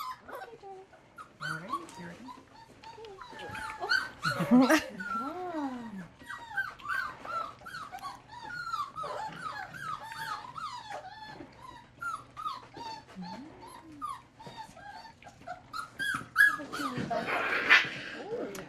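Young service dog puppies whimper, yip and give small high-pitched whines while eating, a busy chorus of squeaky cries close by, with people talking throughout.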